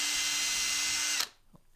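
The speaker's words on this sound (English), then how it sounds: "And then I drill them right at the lip so that you can just, you don't want your line to get in the way of the butt of your rod." A power drill bores holes in a homemade fishing rod holder for a folding wagon, its loud steady whine running for over a second before cutting off abruptly, followed by a faint clunk.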